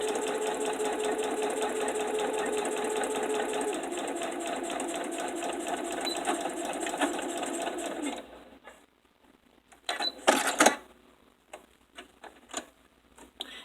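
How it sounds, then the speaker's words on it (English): A sewing machine stitches a zipper seam with a back stitch, running steadily with a fast, even mechanical whir for about eight seconds, then stopping, followed by a few quiet clicks and handling sounds nearby. "do a small back stitch right there up to the needle, and then continue your seam allowance all the way till the end."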